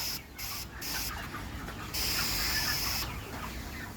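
Caged chickens on a poultry farm cluck softly under a steady hiss of a cooling mist spray line, which cuts in and out in bursts, with no voices present.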